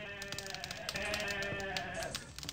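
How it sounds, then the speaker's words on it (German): Goats bleating in a German-language role-playing game, several overlapping tonal calls repeating close by over about two and a half seconds with a steady bed of game ambience. "Ja, die Ziegen, ne?"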